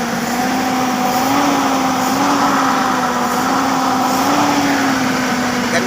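A car engine with a carburetor, restarted after a carburetor test and running without knocking, idles close and steady with a constant drone and slight pulsing, and no one talks.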